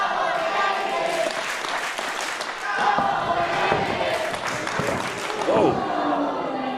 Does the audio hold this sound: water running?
no